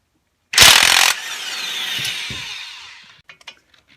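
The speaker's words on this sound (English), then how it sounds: "grab a breaker bar and put a 21mm socket on one side of the bolt" A breaker bar and socket turn a strut bolt on a Ford Mustang front suspension: a sudden loud metallic burst, then a fading grinding creak and a few small clicks close by.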